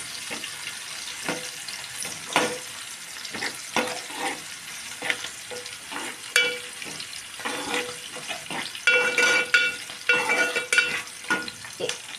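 Cumin, mustard seeds, onions and green chilies sizzle in a pan for masala brinjal, a soft steady fry broken by scraping stirs and a few sharper clinks, with no talking.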